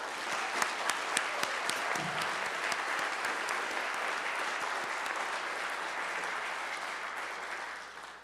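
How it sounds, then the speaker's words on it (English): A church congregation applauds during a Sunday morning service, a few sharp distinct claps at first swelling into sustained full applause that holds steady and tapers slightly at the end. "How about another round of applause for that?"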